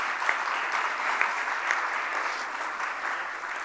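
Audience applause at a foundation launch event, a steady, fairly loud roomful of clapping throughout with no break and no voices.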